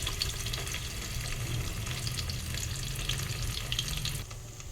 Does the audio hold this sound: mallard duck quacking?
no